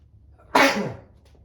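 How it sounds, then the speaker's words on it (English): A single loud sneeze bursts out close up, a sharp burst of breath that fades quickly against an otherwise quiet room. "And I'm gonna sneeze."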